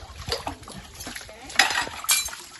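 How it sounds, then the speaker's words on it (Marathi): Pots and dishes are being washed up close. Metal utensils clink and scrape in short clattering bursts, mixed with light splashing. "काय भांडी घासता आणि इथे सुकावून ठेवताय तू उन्हामध्ये"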